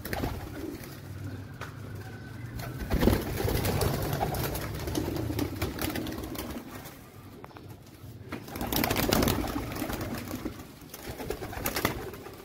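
Pigeons coo repeatedly at close range in a loft, low throaty calls rising and falling, with bursts of wing flapping and rustling mixed in and wind noise in the background.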